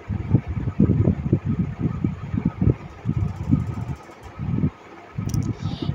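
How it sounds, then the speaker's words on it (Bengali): Sewing machine stitching gathered frills onto blouse sleeve fabric runs in short uneven bursts of low whirring, stopping and starting several times with brief quiet gaps between runs. "মুড়ে নেওয়ার পর এইভাবে ফ্রিল করে দিচ্ছি, মানে কুচকুচ দিয়ে আমি সেলাইটা করছি"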